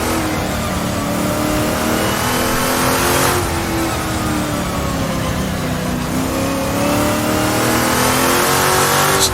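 A race car revs hard around the Mont-Tremblant circuit in Assetto Corsa, its loud, steady engine note climbing through the gears with shift breaks a few seconds apart. No voices are heard.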